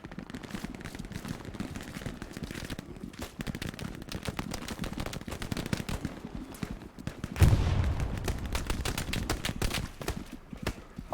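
Machine gun fire in the World War II shooter Hell Let Loose rattles in dense, rapid bursts throughout, sustained and fairly close, with a heavier thump and louder stretch partway through.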